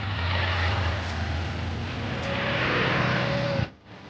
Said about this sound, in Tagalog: Dalawang motor.